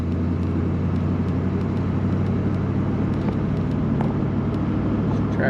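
A car engine with suspected dirt in the carburetor, running in fourth gear, drones loud and steady with a constant low rumble and road noise. No cutting out is plainly audible.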